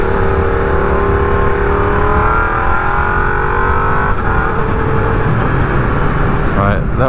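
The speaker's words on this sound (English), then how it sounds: "loaded up with logs, that big truck." A big truck loaded with logs passes on the road, heard from a moving motorcycle as a loud steady engine and road roar with a rising tone, continuous throughout, while a rider talks over it.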